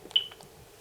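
A single short, thin electronic beep on a premium-rate phone line, heard near and clear, then fading into a faint hum and quiet line noise.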